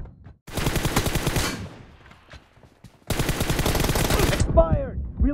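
Rapid automatic gunfire in a video game team deathmatch, two loud sustained bursts of fast shots separated by a short lull, followed by a brief electronic game effect.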